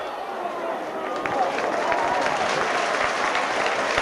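A rugby league crowd at Oldham applauds and cheers in a steady, dense roar of clapping and voices that swells slightly and holds, heard from within the stadium.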